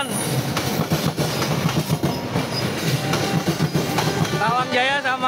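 Two passenger trains, the Tawang Jaya and the Papandayan, pass at a station with steady loud wheel rumble and rhythmic clickety-clack throughout, ending with a rising squeal of wheels near the close.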